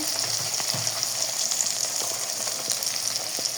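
Prawns and onions frying in a pan with spices, a constant crackling sizzle broken by scattered pops and light scraping knocks of stirring, moderately loud and with no talking.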